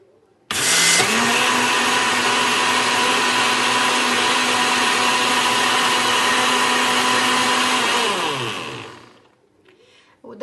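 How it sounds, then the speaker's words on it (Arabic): A loud electric mixer whirs steadily through crepe cake batter for several seconds, with a sudden start, then winds down and fades out. "كنطربوا باش دغيا تخلطنا الخليط في الخلاط"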